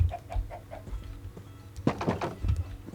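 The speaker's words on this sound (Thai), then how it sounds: "โอ้ไก่อยู่นี่ครับผม" Chickens clucking in the video game Minecraft, a string of short repeated clucks at first, then a busier, louder burst of squawking fowl calls near the end, with no talk over them.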